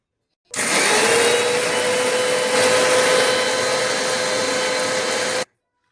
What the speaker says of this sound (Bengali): এখানে আমি চিড়েটাকে একদম মিহি করে গুঁড়ো করে নিয়েছি